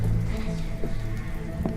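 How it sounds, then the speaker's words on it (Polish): Steady rain in the horror video game The Midnight Man, a continuous close patter of drops on a surface with low rumbling and faint tonal game ambience underneath. "O, deszcz pada, super."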